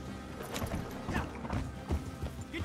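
A fast horse gallops in Red Dead Online, hoofbeats thudding in a quick, uneven run at low volume, with faint background game sound.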